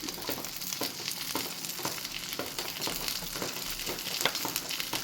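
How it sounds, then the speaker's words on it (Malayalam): Oil poured onto hot charcoal set in the middle of tandoori chicken for smoking, giving a steady crackling sizzle with faint pops throughout, close and fairly quiet, no voices. "ഇതിനകത്തോട്ട് കുറച്ച് ഓയിലും കൂടെ ഒഴിച്ചു കൊടുക്കും"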